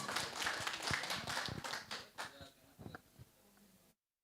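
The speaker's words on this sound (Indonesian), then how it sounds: "tepuk tangan untuk kelompok 2" A workshop group applauds a team at a session, a burst of hand clapping that starts lively and near, then thins into scattered claps before stopping.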